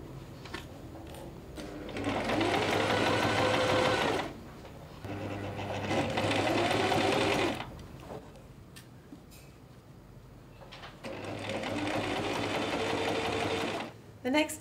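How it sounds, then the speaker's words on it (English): A sewing machine stitches down summer dress fabric along a yoke, running in three long steady bursts separated by pauses, with someone speaking quietly in the gaps. "And stitch down."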